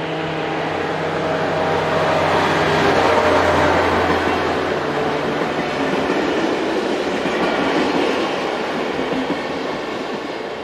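A German Class 218 diesel locomotive hauling a passenger train passes close by with a loud, sustained rumble of engine and wheels, a low engine drone early on and dense rolling clatter continuing to the end.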